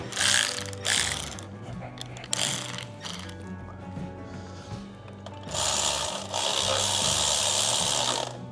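Socket ratchet wrench clicking in rapid bursts while working on a homemade intake manifold setup, loud and close with short pauses between runs of ratcheting.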